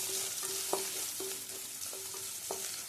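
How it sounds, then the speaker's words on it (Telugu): Jackfruit seeds and coconut pieces fry in a pan under a steady close sizzle, punctuated by about six ringing metallic taps of a spatula against the pan, with no one speaking. "పనసపిక్కలు, కొబ్బరి ముక్కలు కాస్త వేయించుకొని తీసుకోవాలండి సైడ్కి."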